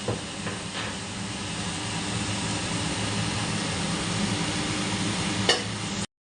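Water boils vigorously in a pot for a cucumber curry with prawns, a continuous close hissing bubbling roar with a couple of brief clinks, ending abruptly.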